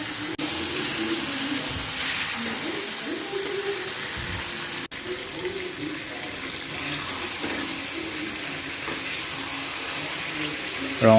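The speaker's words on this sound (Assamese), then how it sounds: "এইবাৰ মই ইয়াত পানী এড কৰিছোঁ" Water poured into a pan of fried potatoes while preparing an Assamese chicken thali: a steady, continuous splashing pour lasting throughout, close and moderately loud, with a faint kitchen background.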